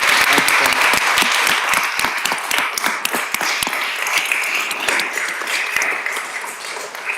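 Applause at a city council meeting after a Palmetto Pride Youth Ambassador's remarks, a dense patter of many hands clapping close by, sustained and fairly loud before easing slightly toward the end.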